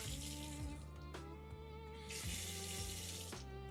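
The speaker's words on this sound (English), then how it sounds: "the tap's working hot" A boat's tap runs hot freshwater into a sink, a steady close splashing stream that swells louder midway, with a couple of faint knocks.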